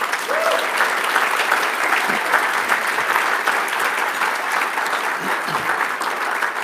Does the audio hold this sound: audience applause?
yes